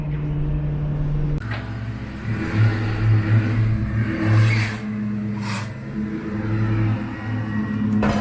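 A drop-top GT car that had sat off the road for about ten years accelerates while being driven, its engine droning steadily and surging loud and close throughout, with brief rises in revs.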